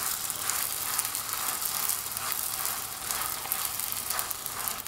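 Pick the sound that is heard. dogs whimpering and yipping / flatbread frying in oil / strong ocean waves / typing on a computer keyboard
flatbread frying in oil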